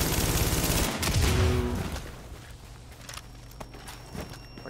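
The Liberator rifle fires in The Division, a rapid burst of shots in the first two seconds followed by quieter scattered clicks and thuds as the action settles.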